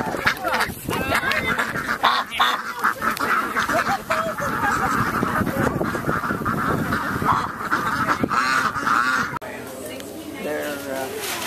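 Geese honk repeatedly in a noisy, crowded flock close by during a fall outing, their calls overlapping under and around people talking.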